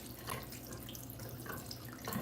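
A warm-water tap runs steadily into a clogged sink, a quiet, continuous splashing hiss of water with no talk over it.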